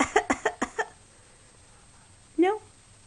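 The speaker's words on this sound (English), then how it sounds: "One more cough." A small child makes a playful fake cough, a quick burst of about six short rhythmic coughs close by, then silence and one brief squeaky vocal sound.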